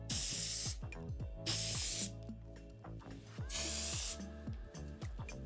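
Several loud bursts of volumizing hair spray misted onto hair, each hiss lasting under a second, with clicking and handling noises between the sprays and no talking.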